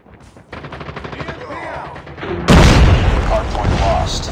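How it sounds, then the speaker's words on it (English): Hostile sentry gun firing in Call of Duty Mobile during a Hardpoint match, bursts of automatic fire that grow louder and closer midway, mixed with other battle noise and radio-style voice callouts. "Hostile sentry gun in your AO."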